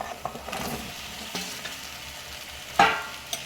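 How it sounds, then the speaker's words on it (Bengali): Fried pumpkin and potato pieces stirred gently in a pan for a Bengali pumpkin dish, with soft scraping and a low sizzle and a sharper clink near the end, close by, with no voices. "হালকা একটু নাড়াচাড়া করে নেব"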